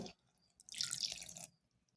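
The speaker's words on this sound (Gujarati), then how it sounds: "તો હવે આપણે તેની અંદર થોડું પાણી ઉમેરતા જઈએ અને એક ખીરું બનાવી લઈશું।" A short splash of water, under a second, is poured into a poha and semolina batter in a quiet kitchen, faint overall with no talking.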